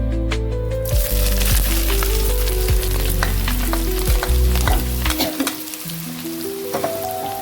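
Green chillies fry with keema masala in a hot pan, a loud, dense crackling sizzle with clattering stirring strokes, then settling into a softer spitting fry.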